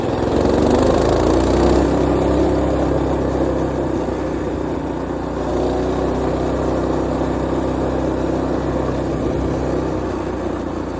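Small engine of a mini bike roaring loudly and steadily while being ridden, a close, continuous low drone with slight shifts in pitch and no talking.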